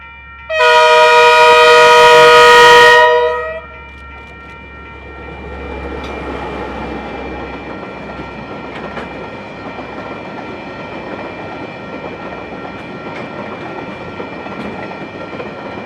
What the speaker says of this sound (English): along comes DL 9037 with empty log train 496